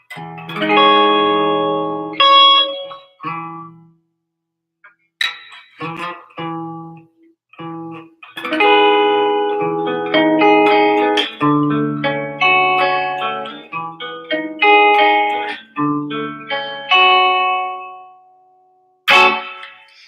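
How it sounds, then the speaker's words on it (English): A clean electric guitar through an amp's clean channel with amp reverb, middle pickup position, plays picked notes and chords with a reverb tail ringing after each phrase, with short gaps between passages. "I use reverb from the amp, and I've got the spark set and just a clean setting"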